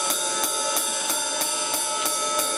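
A drum-kit ride cymbal struck in an even, steady pattern, about eight bright ringing hits that shimmer and overlap into a continuous wash, close and clear with no voices.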